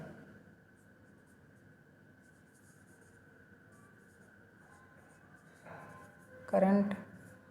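A pen or marker scratching across a board during a lecture on electrolytic processes, with soft strokes under steady room hum and a louder burst of writing near the end, while a voice talks.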